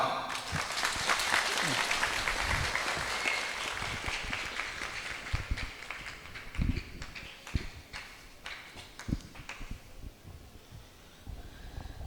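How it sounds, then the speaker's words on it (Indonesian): An audience at an Islamic religious gathering in Tegal claps together, a dense crackling applause that runs loud at first and thins out over several seconds, with a few voices mixed in. "Tepuk tangan no."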